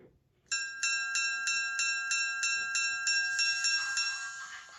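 A bright mechanical bell from a Rapido Burlington Northern SW1200 model locomotive's ESU sound decoder rings steadily, about a dozen evenly spaced strikes, close and clear, followed by a brief hiss of air at the end.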